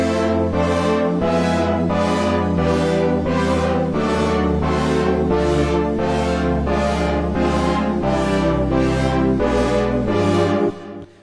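Korg minilogue xd synthesizer with motion sequencing switched off, playing a sustained chord progression loud and steady, chords changing roughly once a second over a constant low bass, with no talking.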